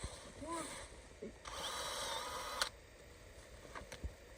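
A faint drill whirs in short bursts with clicks and knocks around it, fairly quiet and somewhat distant.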